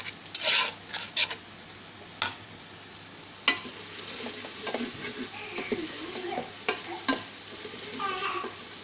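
Black chickpeas with a little sugar sizzle while frying in a pot for biryani, with a steady frying hiss and repeated scraping stirs and clinks of a spoon against the metal throughout.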